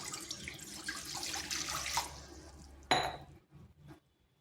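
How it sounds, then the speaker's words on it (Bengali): Water runs from a tap into a kadai (wok) set up for cooking sliced pumpkin, a steady close splashing flow for about two seconds, then a sharp clink and a few fading drips. "তাতে জল দিয়ে দিচ্ছি।"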